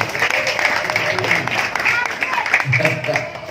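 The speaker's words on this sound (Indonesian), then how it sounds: "Tepuk tangan dulu buat polisi." Audience at a humorous religious sermon clapping for the police, a scattered patter of applause mixed with crowd murmur and voices.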